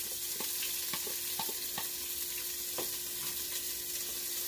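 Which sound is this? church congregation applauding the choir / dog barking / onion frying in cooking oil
onion frying in cooking oil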